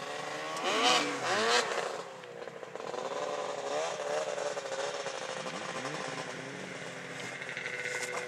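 An engine revs and strains during a vehicle test drive, a loud burst of acceleration early on that settles into a steady, rising and falling motor drone, heard at moderate distance.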